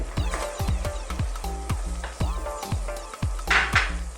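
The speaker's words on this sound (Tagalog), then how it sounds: "Ngayon po, idadagdag na natin ang onion at ang bay leaves or laurel." Onion and bay leaves sizzle in a frying pan while Filipino Beef Bicol Express is cooked, with a soft steady hiss under regular, closely spaced utensil taps against the pan.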